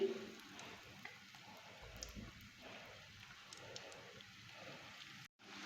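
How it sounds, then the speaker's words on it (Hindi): Breaded chicken and vegetable popsicles deep-frying in oil make a faint, steady bubbling crackle that continues quietly throughout. "तो अब मैं इसके अंदर ये पॉप्सिकल डाल के इसे डीप फ्राई कर लूँगी।"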